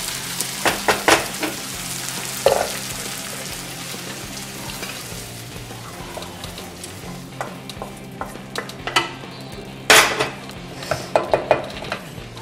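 Spices sizzle and crackle in two tablespoons of hot oil in a kadhai over a gas flame while a utensil clinks and scrapes against the metal pan in sharp, irregular bursts.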